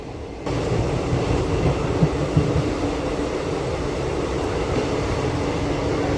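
A DEMU train runs on the Nandyala–Kurnool line at moderate speed, a steady loud rumble of wheels and carriage noise with a couple of faint clicks from the rails, heard from inside and without voices.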